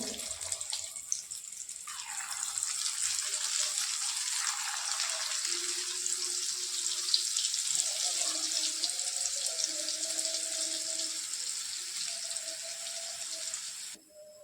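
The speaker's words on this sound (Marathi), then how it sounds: "राहिलेले भजे आपण याच पद्धतीने तळून घेऊ" Onion bhaji batter frying in hot oil in a pan, a steady broad sizzle and crackle that holds evenly throughout, with faint clinks near the middle and an abrupt stop at the end.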